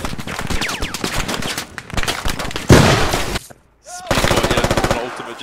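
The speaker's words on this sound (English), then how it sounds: "Oh, that's actually Reaper's ultimate." Rapid automatic gunfire from Reaper's ultimate ability in the video game Overwatch, loud dense bursts with a brief pause, then more close repeated shots.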